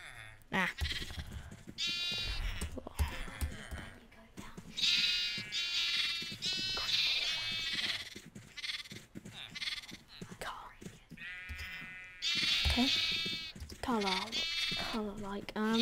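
Video game rainbow sheep bleat repeatedly in wavering, sustained calls, loud and close over a busy game soundtrack, while someone talks through much of it.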